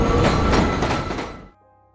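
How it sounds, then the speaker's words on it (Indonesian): In a film scene, a train departs with a loud, rumbling clatter of wheels on rails. The noise holds for about a second and a half, then cuts off sharply, leaving a faint low hum. "Jimmy dan Michael pergi menggunakan kereta untuk meninggalkan kota ini."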